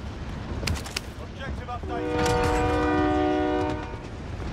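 A train horn sounds in a sustained blast with harmonic tones, following brief clicks and a muffled voice, within the Call of Duty: Warzone game soundscape.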